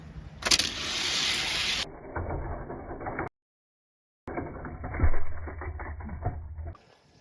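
Hot Wheels-style toy cars, including the Bone Shaker and a GMC Cyclone, race down a speedway track in a six-lane best-of-three-out-of-five contest, giving loud rolling rattles that drop out briefly midway before resuming with a clatter.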